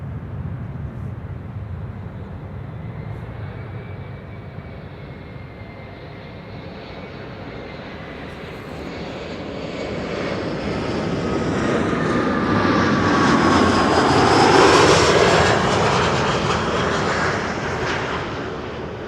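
A wide-body airliner on approach to runway 06 at Amsterdam Schiphol Airport rumbles overhead, a low, steady jet roar that swells gradually as it nears, peaks loud, then begins to fade.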